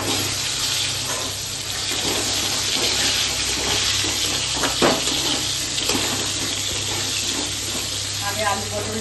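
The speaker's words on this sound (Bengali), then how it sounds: "আগে আলু পটলটা ভেজে নিই," Potato and pointed gourd frying in a little oil with cumin seeds, a steady close hiss and sizzle running throughout, with a faint voice now and then in the background.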